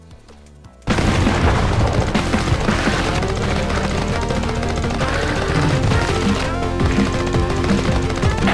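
After a quiet lead-in, loud Xeno Crisis game audio on the Sega Mega Drive kicks in, with pounding booms and rapid gunfire-like effects layered over driving music.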